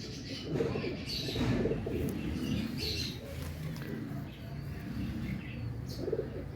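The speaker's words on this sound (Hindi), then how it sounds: "स्ट्रेट परों के कबूतर है माशाल्लाह से।" Pigeons in a breeding setup with straight-feathered birds and paired hens coo softly and repeatedly, with scattered chirps and rustling close by; a voice talks quietly underneath at times.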